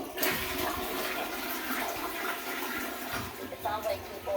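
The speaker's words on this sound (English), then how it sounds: "When I flush the toilet" A household toilet flushes, a rushing gurgle of water that runs steadily and then trails off into refill sounds, fairly close.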